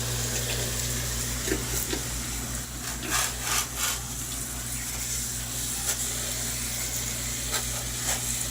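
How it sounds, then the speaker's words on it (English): Water rinsing through an air conditioner's indoor coil and trickling down the drain line during cleaning, a steady wet wash under a constant low mechanical hum, with a few faint knocks and splashes scattered through. "I hear the water draining"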